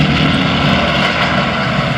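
Propeller-driven torpedo planes attack Pearl Harbor, their engines a loud, steady, dense drone that fills the scene without a break and with no voices.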